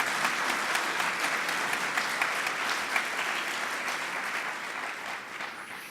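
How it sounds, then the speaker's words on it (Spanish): Audience applause at a theology colloquium welcoming a speaker, a steady, even patter of many hands clapping together, moderately distant, slowly fading toward the end with no talk over it. "muchas gracias por el aplauso"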